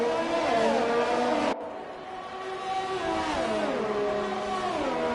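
Formula 3 race cars roar past on the Canada circuit in iRacing, their engines loud and continuous with rising and falling pitch as they pass. A sharp cut interrupts the sound briefly before more cars sweep by, with no talk over it.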